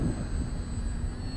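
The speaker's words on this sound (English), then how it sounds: "So there's a bit of wind there." Gusty outdoor wind buffets the microphone while a model aircraft is flown, a dense low rumble that swells and dips continuously with no voices.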